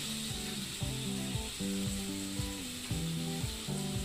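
Green chilies drop into hot oil for kande pohe, giving a steady, close sizzle and crackle that runs throughout, with faint stirring scrapes and rhythmic clicking over it.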